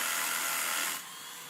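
A Bosch Bulldog rotary hammer drills into concrete with a loud, dense grinding roar that holds steady, then drops to a quieter, thinner whir about two-thirds of the way through.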